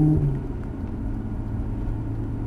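A Maserati GranTurismo S shifts up a gear during a track driving session: a brief engine note at the start drops away into a steady low rumble, heard from the cabin, with no one speaking.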